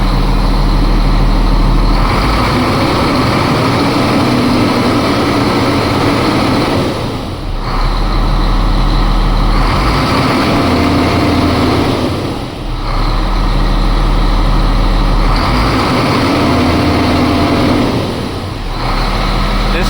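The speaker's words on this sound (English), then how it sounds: "Truck idles about 800." A truck engine idling at about 800 rpm gives a steady, close, loud low rumble that dips briefly several times before settling back to the same even drone.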